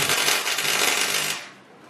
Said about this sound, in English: Now I'm going to put a few solid welds in there